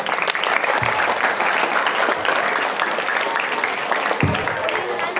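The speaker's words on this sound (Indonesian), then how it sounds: "Tepuk tangan lagi." A crowd at a talk claps steadily, a dense, close wash of applause lasting throughout with a few louder thumps.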